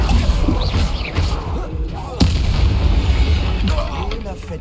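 Spell explosions boom in the Hogwarts Legacy video game, a dense run of heavy thumps and blasts over combat noise, with a sharp crack midway and a voice heard in the mix.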